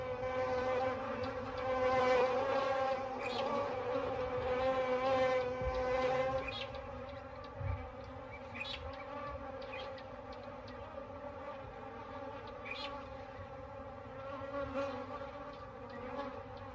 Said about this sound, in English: When the lions move on, the bees go in search of new victims.